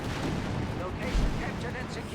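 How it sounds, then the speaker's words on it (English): Artillery from a sweeping barrage in the video game Company of Heroes 3 makes dense, continuous rumbling and crackling explosions that stay loud throughout. "Whiz-bang barrage here on the Jaegers. Looks like to be the sweeping barrage"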